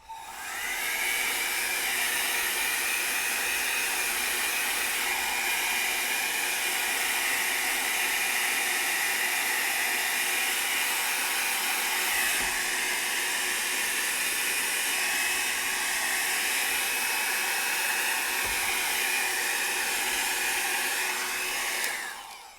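A hair dryer blows steadily on freshly applied silver paint at a desk, a loud constant airy roar lasting throughout with a brief dip near the middle.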